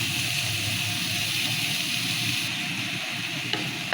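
Chopped, washed potatoes hit a hot pan with salt and fry with a dense, continuous sizzle, close up, with faint stirring scrapes toward the end and no talking.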